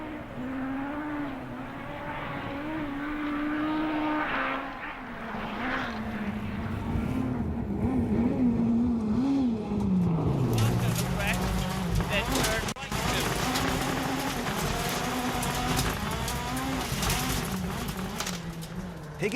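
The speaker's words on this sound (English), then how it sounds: "The exhaust note of the Astra, testimony to a full throttle attack" A Vauxhall Astra rally car at full throttle on the Rally of Wales gives a rising and falling engine note with gear-change dips, heard at moderate distance with commentary speech over it throughout.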